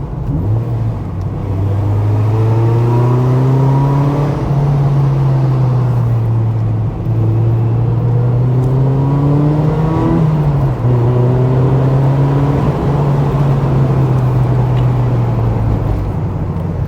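Mazda MX5 Miata pulling through third gear, the engine a steady, loud droning hum with rising and falling pitch as it accelerates, heard from inside the car, with no talking.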